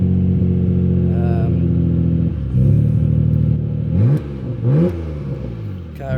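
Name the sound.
Nissan R34 Skyline engine starting and running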